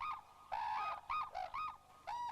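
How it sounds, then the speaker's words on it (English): Cranes in Hokkaido, Japan, trade loud, bugling calls in a rapid back-and-forth duet in winter, about six bursts in quick succession, clear and fairly close. "Another number that has always delighted human observers is the famous crane duet."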